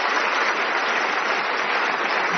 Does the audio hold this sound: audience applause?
yes